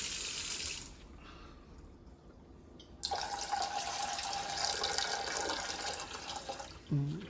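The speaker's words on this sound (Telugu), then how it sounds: "ఒక కప్పు నీళ్ళు, ఒక కప్పు నీళ్ళు పట్టినాయి" Running water from a tap fills a cup in a home kitchen, a soft stream that grows brighter and louder midway, with a brief clink near the end.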